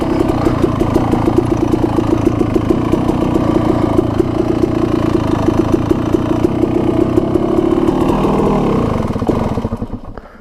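A motorbike engine running close by, a steady loud mid-pitched putter with pulsing firing beats that slows and fades toward the end, no talk.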